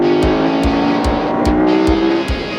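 A 1994 Ducati 916 motorcycle roars by on the road, a loud, steady, close engine note with a regular pulsing rhythm, heard alone without talk.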